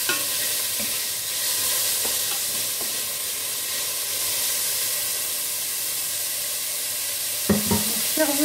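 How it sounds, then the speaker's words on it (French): Small onions sauté in a pan: a continuous, even hiss of frying fills the clip, then a couple of utensil scrapes and knocks near the end, with no talk. "Je vais revenir mes petits oignons."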